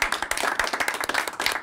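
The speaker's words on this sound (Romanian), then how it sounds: "Aplauze pentru..." A studio audience at a comedy talk show claps in quick, distinct rhythmic bursts, close and fairly loud sharp hand claps rather than a wash of applause, lasting under two seconds.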